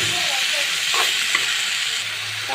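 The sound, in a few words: stir-frying carrots in pan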